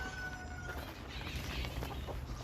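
A Ko Shamo rooster gives soft clucking calls over steady background noise throughout, fairly close but not loud.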